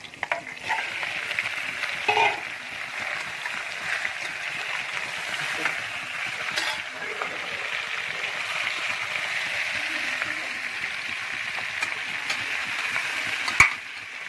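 Steady sizzling of country chicken frying with onions in a pressure cooker, a continuous crackle with occasional stirring clatter, close by and without talk.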